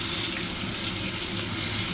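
Mango pieces fry in hot oil with a steady, loud hiss and crackle that runs unbroken throughout, no voices.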